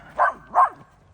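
A dog out on a walk gives two short, sharp barks about a third of a second apart, close and loud, followed by quiet.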